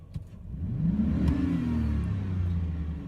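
A Chevrolet S10 truck engine idles and revs steadily up close, a strong low drone with rising and falling whir through the whole stretch, no talk over it.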